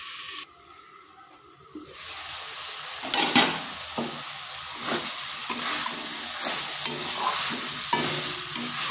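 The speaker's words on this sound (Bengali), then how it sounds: "ঢাকা তুলে তুলে বেশ কিছুক্ষণ সময় ধরে এটাকে কষিয়ে নিতে হবে।" Banana stem curry being stirred and fried in a pan: after a quiet opening, a spoon scrapes in repeated strokes against the pan over a continuous sizzle, the scraping rhythmic and close.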